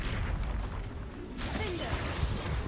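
A Confringo fire spell bursts in the Hogwarts Legacy video game, a sudden broadband blast about halfway through, cutting in over steady game ambience with a crackling mechanical edge and no talk.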